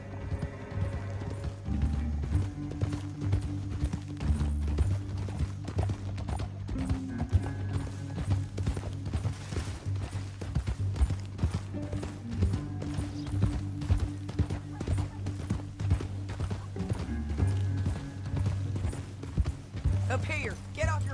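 Horse hooves clip-clop steadily in a Red Dead Redemption western video game, with several horses riding together under continuous game music, jingling tack and voices talking.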